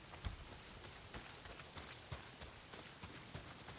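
Heavy rain pours down in a video game, a dense steady hiss with scattered droplet patters, fairly quiet and continuous with no voices.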